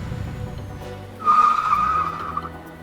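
A truck brakes hard in TruckersMP (Euro Truck Simulator), giving a loud, sustained tire squeal and skid that rises sharply after a low engine rumble and fades within about a second.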